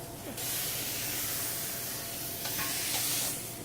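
Food sears in a very hot pan, a loud continuous sizzle that flares as it hits the metal and then holds steady, with a faint voice underneath.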